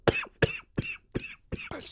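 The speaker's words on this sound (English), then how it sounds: "I swear all this coughing's gonna give me an aneurysm" A person coughs six times in a row, each cough short, close and harsh, evenly spaced with brief pauses between.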